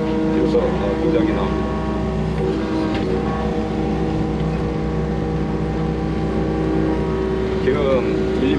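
An excavator engine runs steadily at about 1920 RPM in eco mode near a 400 mm water main dig, giving a continuous droning hum with whining tonal layers. Occasional faint clanks sound over it, and someone talks over the engine.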